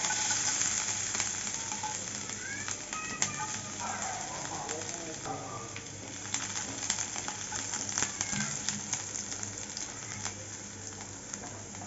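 Chopped garlic dropped into hot oil with fried dried red chillies, a continuous crackling sizzle with spatters and occasional stirring clinks, a voice faintly in the background.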